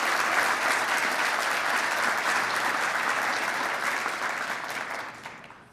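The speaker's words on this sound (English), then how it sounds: "Please join me in giving him a well-deserved round of applause" Audience applause at a fire department awards ceremony, sustained broadband clapping from a full room that holds steady then fades out near the end, with no talk over it.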